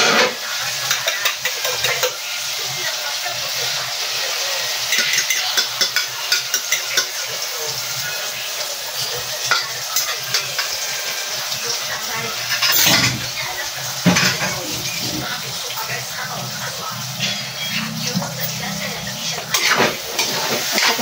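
Ampalaya, bitter gourd, frying in a pan, a steady loud sizzle running throughout with repeated scraping and clinking strokes of a utensil stirring against the pan, close to the microphone.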